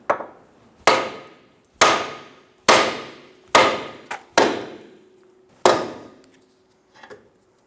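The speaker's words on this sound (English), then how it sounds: "Hit the knuckle to release the outer tie rod." Seven sharp metallic hammer blows ring out, evenly spaced about a second apart, each with a short ringing decay, as a hammer strikes the steering knuckle of a 2003–2007 Infiniti G35 to free the outer tie rod end.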